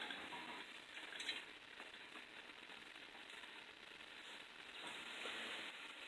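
Bacon hisses and crackles in a soup pot, a quiet, continuous sizzle with faint stirring. Nobody speaks.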